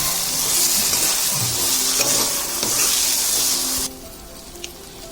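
Water pours into a pan of cut potatoes cooking for an Odia fish curry, a loud rushing hiss over sizzling that stops abruptly partway, leaving quieter simmering.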